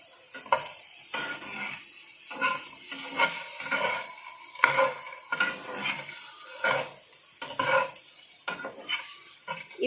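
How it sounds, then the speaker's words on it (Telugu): Eggs sizzle steadily in a hot pan for gongura egg curry, with a spatula stirring and scraping at an uneven rhythm that brings bursts of hiss and clinks of metal against the pan. Close and fairly quiet, with no talking. "ఎగ్స్ని కొద్దిగా వేయించుకోవాలి."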